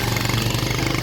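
A motorcycle engine runs steadily up close while climbing a hill toward a monastery, a dense continuous low rumble that fills the short moment without a break.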